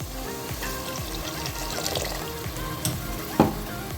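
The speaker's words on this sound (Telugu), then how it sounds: "ఇప్పుడు 1 గ్లాస్ వేడి నీళ్ళు పోసుకుందామండి" Hot water goes into chicken masala gravy in a pan: a short, close pour with splashing and bubbling, a louder splash near the end, and faint background murmur.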